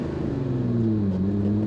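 A Lamborghini Countach engine hums and rises in pitch, a low, steady mechanical drone climbing gently as it is revved, close and clear with no talk over it.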